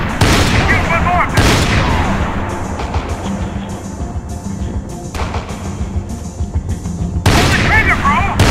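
Heavy gunfire in the Max Payne 3 video game: repeated booming shots and bursts with big blasts near the start and end, dense and loud throughout.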